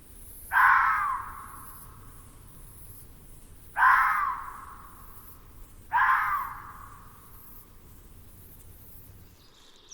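Three loud, harsh caws from a crow in an alpine wilderness, spaced a few seconds apart, each rising sharply then fading, over a quiet outdoor background.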